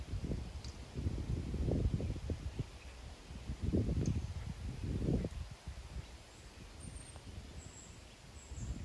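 Wind gusts across an open hickory golf course at White Lake Golf Club in Michigan, a low rumbling buffet on the microphone that rises and falls in several surges, with faint birdsong above it.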